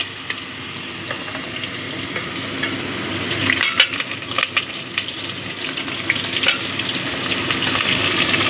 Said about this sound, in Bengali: আলুটা একটু ভেজে নেব